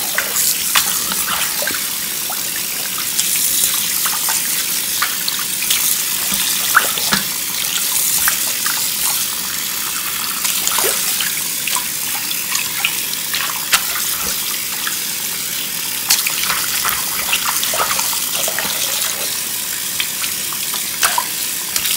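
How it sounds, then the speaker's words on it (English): Lukewarm tap water runs steadily into a sink to rinse dirty makeup brushes, a continuous close splashing hiss with small gurgles and brief clinks, no talking. "I'm gonna turn the water on, kind of rinse this out because it's a little bit dirty"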